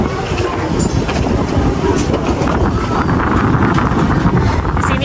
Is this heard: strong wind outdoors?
yes